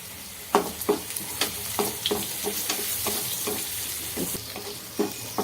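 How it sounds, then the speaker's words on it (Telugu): Onions fry in a pan for a cabbage stir-fry and are stirred with turmeric. A steady sizzle runs throughout, broken by repeated sharp scraping strokes of the stirring utensil at a close distance. "ఉల్లిపాయ కాస్త ఫ్రై అయ్యాక పసుపు వేసి కలుపుకోండి"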